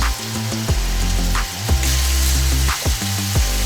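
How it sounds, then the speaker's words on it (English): Steady hot-pan sizzle of beef tenderloin pieces searing, with a hissing crackle, under a low rough buzz and a few sharp clicks. "Want to hear that sizzle when you put them in."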